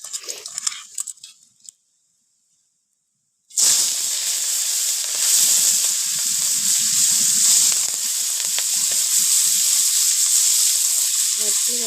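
Prawns fry in a pan with a loud, steady hiss and sizzle that bursts in after a short silence and holds unbroken, with scattered small pops and crackles; brief speech comes before the silence.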